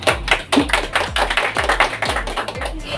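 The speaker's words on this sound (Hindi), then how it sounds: "उनके लिए एक ताली बजनी चाहिए।" An audience at a charity event in Manda, Prayagraj claps for an NGO, with loud, distinct claps repeating in a fairly regular rhythm, close and clear with no voices over them.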